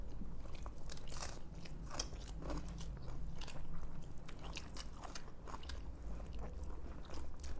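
Chewing of homemade vegetable biryani, close and crunchy, with a steady run of bites and mastication sounds and no talk.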